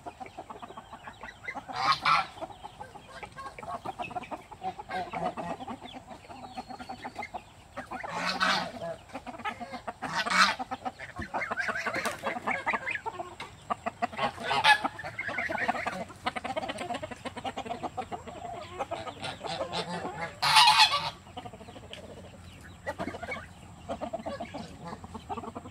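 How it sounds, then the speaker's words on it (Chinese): Young geese honk and chickens cluck in a farmyard, with several loud bursts of calling and wing flapping rising over a quieter background of fowl chatter. "小鹅也来忽闪忽闪翅膀"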